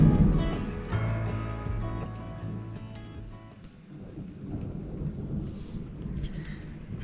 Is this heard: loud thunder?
yes